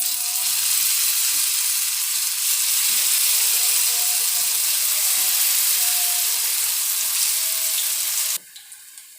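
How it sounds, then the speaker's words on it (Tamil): Raw banana pieces frying in hot oil, a loud, steady sizzling hiss that runs continuously and then cuts off abruptly near the end, leaving a quieter background with a few faint ticks. "தேவையான அளவு எண்ணெய் சூடு பண்ணிக்கின்னு இந்த மாதிரி நம்ம பொரிச்சிக்கலாம்"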